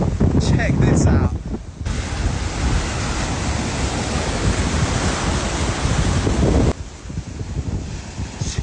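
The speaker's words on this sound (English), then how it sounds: "I haven't seen waves as big and as rough as this since I was in California, Santa Monica" Huge rough Atlantic surf crashing on a beach at Punta Cana under red-flag conditions, a long roaring wash of breaking water with heavy wind buffeting the microphone, loud and close.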